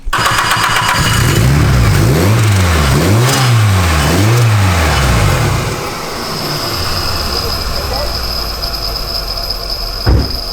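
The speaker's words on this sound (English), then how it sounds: "It's metal on metal. So it's just grinding." Harsh metal-on-metal grinding from a vehicle wheel with a rising and falling whine, loud and close, settling into a steady rough drone, then a sharp clunk near the end.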